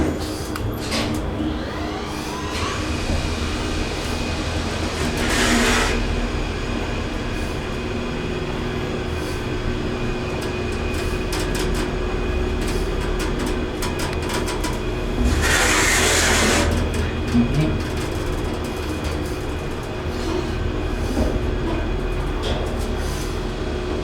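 Vintage Dover hydraulic elevator motor running steadily in a building machine room, a loud continuous hum and whine that never lets up, with two brief bursts of hissing, scraping rush partway through and no talk.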